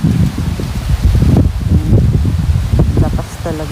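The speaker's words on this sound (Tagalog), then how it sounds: "Lakas pa rin ng hangin." Strong wind rushing through leaves on a hilltop farm, a steady broadband roar with gusting surges, loud and close to the microphone, with people talking underneath.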